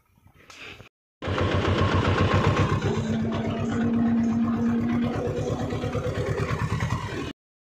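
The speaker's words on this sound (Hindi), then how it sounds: "यहाँ ट्रैक्टर अपना खड़ा है" An HMT 2522 tractor diesel engine runs in a field during sowing, loud and close with a steady, rapid chugging pulse for several seconds after a brief start, then cuts off abruptly.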